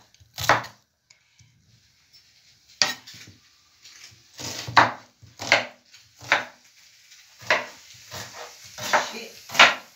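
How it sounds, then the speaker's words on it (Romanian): Onion being chopped on a board for a porcini mushroom salad, a series of sharp close knife strikes coming in uneven bursts, with pauses between groups of cuts. "tocăm ceapa"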